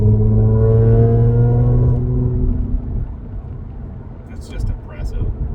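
An Audi B8.5 S4 with a Jackal tune pulls through the gears from inside the cabin, engine drone rising in pitch, then a gear change drops it to a lower rumble, with brief talk near the end.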